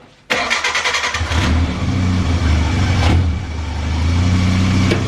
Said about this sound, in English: So now we'll start the engine for a little bit, get the oil turning through, get the oil pressure up